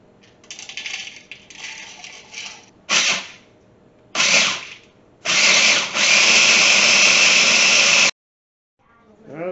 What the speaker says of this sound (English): I think we have to put these in the grinder.